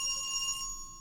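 A telephone rings inside the horror cooking video game Cooking Companions 2, a short electronic bright tone that holds steady and then cuts off, alone without talk.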